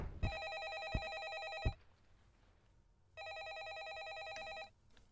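A telephone rings in the horror video game A Favor, two long bursts of a bright electronic trill separated by a pause, moderately loud and close, with faint thuds in between and no talk.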